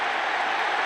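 Dense, continuous roar of a football stadium crowd cheering at a college game between Iowa and Ohio State, loud and sustained throughout without a break.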